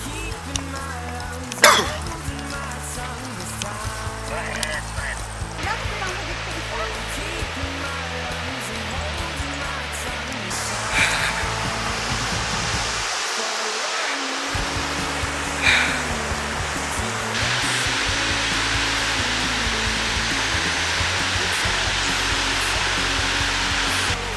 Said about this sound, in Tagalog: Narinig ko na yung falls.